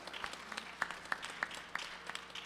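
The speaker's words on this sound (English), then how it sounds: "Please give them a big round of applause." Scattered, fairly sparse hand clapping from a small crowd, with a few sharper individual claps popping out above a soft, faint background.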